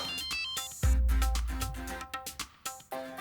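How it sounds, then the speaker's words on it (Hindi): A phone's ringtone for an incoming call plays as a repeating melodic tone with several quick chimes, fairly loud and close, in an indoor domestic scene from a Hindi family sitcom. "महेश डोंगरे का फोन आ रहा है।"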